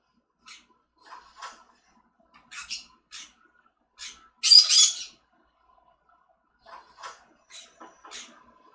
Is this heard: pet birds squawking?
yes